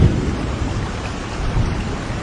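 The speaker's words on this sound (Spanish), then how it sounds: "observa nuevamente a la poderosa tormenta" Heavy rain falls steadily through a thunderstorm, with low rumbling thunder swelling beneath the downpour; a dense, continuous wash of loud storm noise with no voices.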